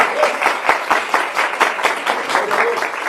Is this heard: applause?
yes